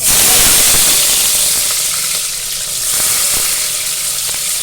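Onions sizzle and fry loudly in hot oil with bay leaf, cinnamon and cloves, a steady, dense crackle with small bursts of spatter close to the pan.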